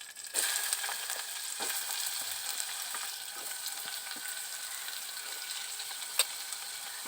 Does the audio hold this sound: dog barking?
no